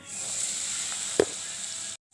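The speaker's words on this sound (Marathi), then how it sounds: "आता मसाला टाकू, पण तेल तापलं चांगलं." Spices sizzle in hot oil in an iron kadhai along with onion, garlic and green cardamom. The frying hiss is steady and close, with one brief clink or stir partway through before it cuts off.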